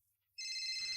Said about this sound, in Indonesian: Telepon bunyi.